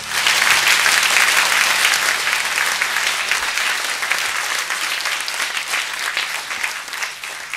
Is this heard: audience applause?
yes